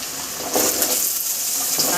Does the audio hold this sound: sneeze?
no